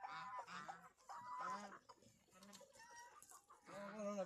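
Chickens eating cluck and call close by in short, repeated bursts, with scratchy pecking noises between them.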